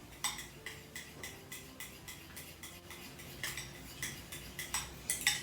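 A utensil whisks bread pudding custard flavoured with vanilla essence and cinnamon powder in a bowl, with rapid, regular clinking and scraping strokes close by, steady throughout with no talk.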